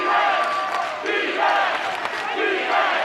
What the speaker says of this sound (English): You hear the defense chant from the crowd.